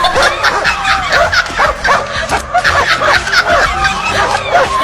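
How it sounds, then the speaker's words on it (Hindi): An angry dog barks at a monkey in rapid, loud, close bursts that run almost without pause through the whole stretch. "एक कुत्ता बहुत ही गुस्से में नजर आ रहा है और एक बंदर को देखकर भौंक रहा है"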